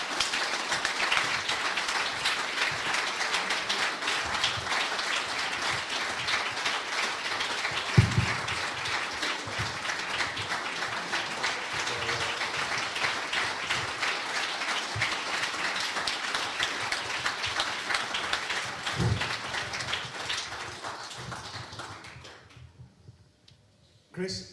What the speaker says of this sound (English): So I want you to give him a massive round of applause,